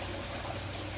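Water is poured into a miniature bird bath set in a succulent planter pot in a back yard, giving a steady, close trickle and splash that runs without pause.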